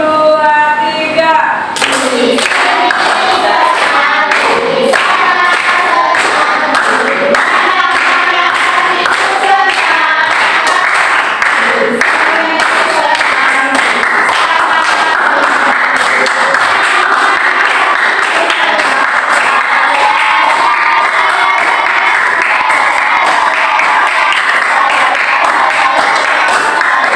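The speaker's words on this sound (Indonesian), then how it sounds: "Ayo, sambil tepuk tangan ya" Children and adults at an elementary school gathering clap in rhythm while singing a song together, sharp repeated claps running steadily under the singing voices for nearly half a minute.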